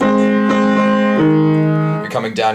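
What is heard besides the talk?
No everyday noises stand out.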